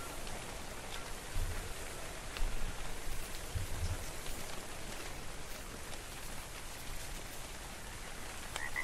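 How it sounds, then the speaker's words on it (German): Steady rain falls in the video game ARK: Survival Evolved, a dense even hiss of drops with faint scattered patters, constant and moderately soft throughout, with no talking. "Mein Gott, immer wenn ich draußen bin, regnet, das ist echt. Das ist ein Fluch hier im Spiel."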